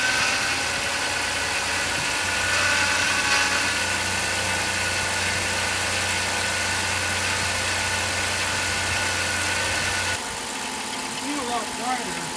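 A car engine runs at a steady, moderate idle with a low even hum for about ten seconds before it drops away, leaving faint background noise.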